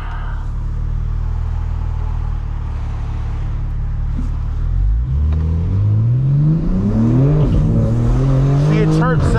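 A BMW G82 M4 with its exhaust valves open idles with a low rumble, then launches hard. The engine climbs through loud rising revs with a brief shift dip before pulling again. It is close and loud and fills the whole clip.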